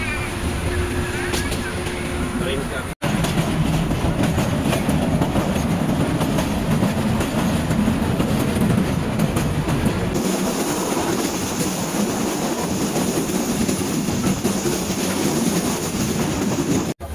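A passenger train on the Dhaka to Sreemangal line runs steadily on its rails, a loud continuous rumble with faint clickety-clack heard from on board, with a short break near the start.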